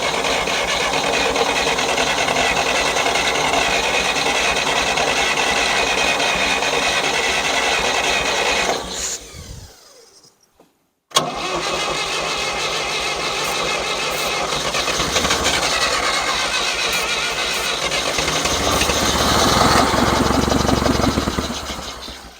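A 1960s John Deere 1010 tractor engine, left sitting for 18 years, cranks steadily on ether with a loud, continuous churning drone, breaks off briefly into near silence, then resumes cranking for several more seconds.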